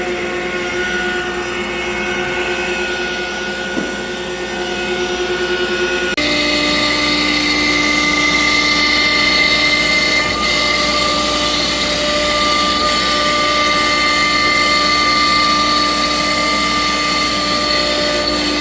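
An Altmill CNC router milling a pocket with a 1/4 inch end mill on a production job, a steady loud whine and hum with sustained tonal pitches that shift once partway through.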